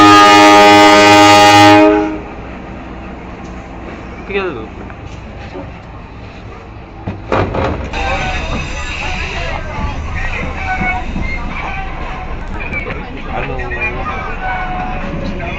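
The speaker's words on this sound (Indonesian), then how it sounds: "kereta api Berantas dengan tujuan akhir stasiun Pasar Senen telah melintas langsung" Brantas passenger train bound for Pasar Senen sounds a long, loud horn, then runs straight through a station without stopping, leaving a rumbling passage with a voice talking over it.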